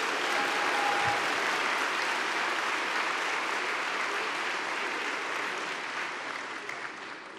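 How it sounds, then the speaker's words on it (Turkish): Sustained applause from a crowd at a CHP parliamentary group meeting, thick steady clapping that holds strong for several seconds and eases slightly toward the end. "Önce bir alkışı yapın."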